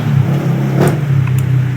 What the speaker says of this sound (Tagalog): Lakas na tricycle.